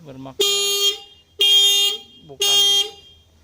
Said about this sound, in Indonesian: alarm masih berbunyi